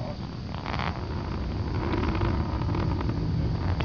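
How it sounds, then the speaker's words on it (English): Steady broadband roar of a Delta II rocket's main engine and verniers burning during launch, continuous and unbroken, heard from a camera mounted on the first stage with wind rush mixed in. "Main engine, both verniers continue to burn well."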